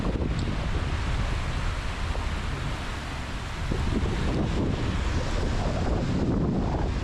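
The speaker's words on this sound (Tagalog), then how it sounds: "High tide is coming." Ocean waves wash onto the shore at Pinamungahan, Cebu, as the high tide comes in, a constant roar of surf heavily buffeted by wind noise on the microphone, with no speech.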